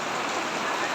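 Rain falls steadily as a dense, even hiss throughout, loud and close, with no individual drops standing out, during an outdoor Sundanese traditional ceremony.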